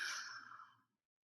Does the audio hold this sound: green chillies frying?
no